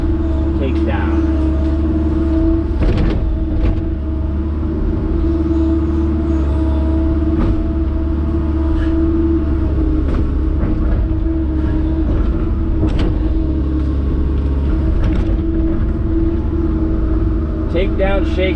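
A Kobelco SK160 excavator takes down a tree: a loud, continuous diesel engine rumble with scattered clunks and sharp cracks throughout, and people talking over the machine.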